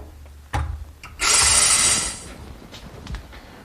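A drill with masking tape wrapped around the bit as a depth guide bores into a corner brace under a countertop, one short whirring burst of about a second, close and loud, framed by a few knocks and handling clunks.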